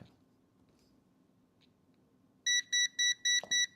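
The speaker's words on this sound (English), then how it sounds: "Beep, beep, beep, beep," A chat-controlled toy duck built with a DF Player and ESP board gives five loud, evenly spaced electronic beeps, following a stretch of quiet room noise.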